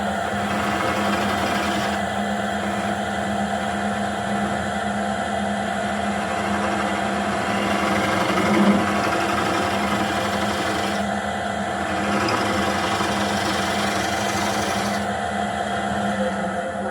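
A wood lathe turns a red oak tenon for a round-bottom bowl, giving a steady, continuous mid-level whirring hum with a gritty cutting texture that runs unbroken and alone throughout.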